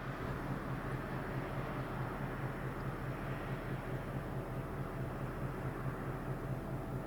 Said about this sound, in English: It's a plane. Thank God.